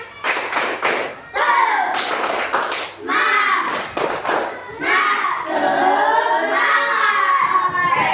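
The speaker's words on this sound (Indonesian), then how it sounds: "Tahu tepuk semangat?" Schoolchildren in an Indonesian classroom doing a rhythmic spirit clap, bursts of sharp hand claps and thuds in patterns, loud and close, mixed with children's shouting and voices.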